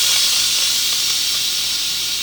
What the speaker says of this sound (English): I've clicked cancel to turn off the electric pressure cooker. So my next step is to do a quick release.